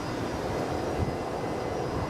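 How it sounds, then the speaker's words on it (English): A Solomon Airlines Airbus A320 airliner at Brisbane airport gives a steady, broad jet engine roar at moderate distance, continuous and even throughout. "All right, this is Solomon's A320,"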